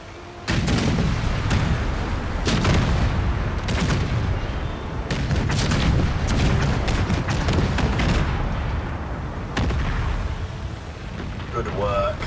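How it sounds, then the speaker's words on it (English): Ship cannons firing a broadside in the naval strategy game Empire 2 Total War, a series of heavy booming blasts rolling one after another across the whole stretch, loud and close, with a voice speaking at points. "we can fully broadside them with the left cannon"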